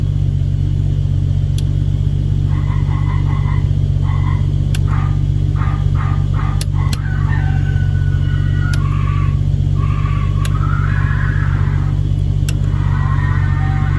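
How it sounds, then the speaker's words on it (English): A car horn plays a series of short animal-like calls, chirps and croaks over a constant low engine rumble, with a few sharp clicks. "I don't think we showed you the controls for this thing's animal sounds yet"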